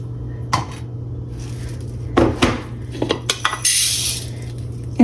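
Dry lentils clatter into a measuring cup in a kitchen, making a few scattered rattling pours and taps, one brief loud burst of pouring grains, over a steady low hum.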